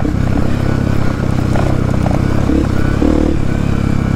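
Dirt bike motorcycle riding a hilly trail near São Paulo, its engine droning steadily and close throughout, with clattering and scraping from the rough ground mixed in.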